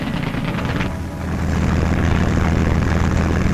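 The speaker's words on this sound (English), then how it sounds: "From dawn to dawn, the sound of aeroplane engines filled the air" Aeroplane engines of World War II aircraft drone loud and continuous, with a deep, throbbing propeller rumble that swells slightly after a brief dip, as if a formation is passing overhead.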